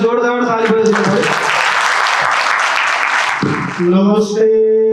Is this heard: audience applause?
yes